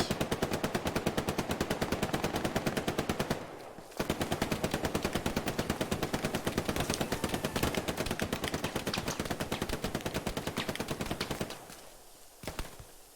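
Machine gun fire in the Hell Let Loose video game, with long loud bursts of rapid, evenly spaced shots close by. One short pause breaks the firing, and a few scattered shots follow at the end.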